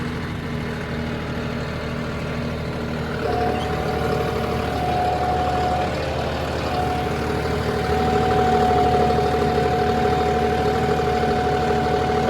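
A modified tractor engine runs steadily at about 1600 rpm, producing a loud, close, continuous drone with a tonal whine that shifts slightly higher partway through and intensifies toward the end.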